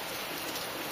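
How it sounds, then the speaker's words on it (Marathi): Heavy rain pours down as a dense, steady hiss, close and loud, with no voices over it. "ते बघून घ्या पाऊस एवढा चालू आहे मित्रांनो"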